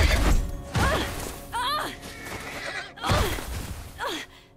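A horse whinnies and neighs repeatedly in The Last of Us, with loud, shrill, wavering cries and thuds in between, close up and without talk.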